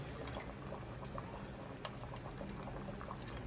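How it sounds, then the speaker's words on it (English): Oxtail broth and oil are drained from a pot in a kitchen. The pour makes a faint, steady liquid trickle for a few seconds, with no speech over it. "you want to try and drain as much as you can, and you'll know the difference from the oil and the broth itself"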